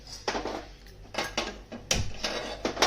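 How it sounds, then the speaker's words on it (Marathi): A wide metal wok is handled and set down on a gas stove, giving a short series of clanking and scraping knocks, close and moderately loud, with brief pauses between them. "तर आता गॅसवरती ना कढई ठेवते।"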